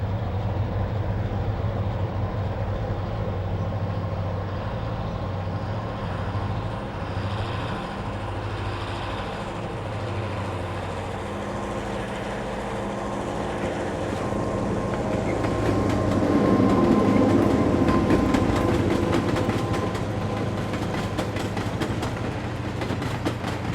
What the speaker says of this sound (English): Coast number 9 comes off the Milwaukee Main and curves to follow BN's more favorable grade to St. Paul.